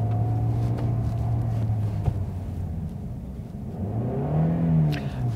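A car with a manual transmission hums steadily, then drops revs as the gear changes, and the engine note climbs again as it pulls away smoothly. The sound is close and continuous, with no talking.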